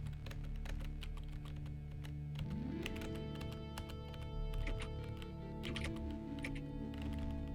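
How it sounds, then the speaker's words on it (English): Rapid clicking on a computer keyboard, a fast uneven patter of key strikes heard close and fairly quiet over a steady low hum that shifts partway through. "Oh, that was the sound of my keyboard."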